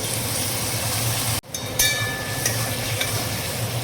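Spices stirred into melted butter in a cooking pan for a matar paneer curry, a steady close sizzle with a brief dropout partway and scraping stir noises, no talk.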